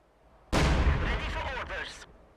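An anti-tank gun fires in a WWII strategy video game, a single loud booming blast that decays over about a second and a half.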